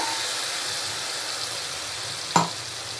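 Raisin paste cooking in a pan on high flame, giving a steady hiss and sizzle throughout, with one sharp knock of a utensil near the end.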